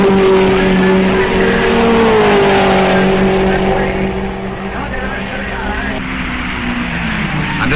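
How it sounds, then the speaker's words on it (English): Porsche race cars and an Alfa Romeo Veloce Spider race at Road America in 1958, a loud continuous engine drone with shifting pitch as the cars pass, with a commentator's voice over it. "All of the first 6 cars are Porsches, followed by Bill Wiesthoff and an Alfa Romeo Veloce Spider"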